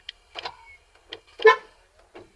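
Short electronic beeps and chirps from a 2007-2015 Honda Ridgeline, its horn tooting twice on locking after key fob programming, among small clicks, close by with no talking.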